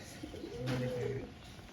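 A single soft, low coo from a female pigeon, a short rolling call close by, in an otherwise quiet setting.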